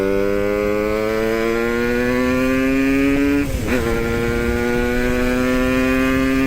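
A Yamaha RX two-stroke motorcycle engine holds a steady, buzzing idle close by, then is blipped in one sharp rev that drops back and settles into the same droning note, with no talking.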